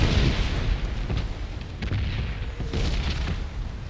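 Repeated deep booms and rumbling blasts roll through, dense and continuous, like a barrage of explosions heard close by, from a bombing zone in the video game PUBG Battlegrounds.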